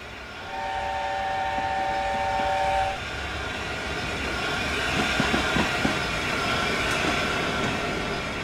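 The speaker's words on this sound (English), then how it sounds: "There's a train coming." A steam train sounds a two-tone horn for a few seconds, then carries on rolling past with clattering wheels and a steady rumble, fairly loud and close.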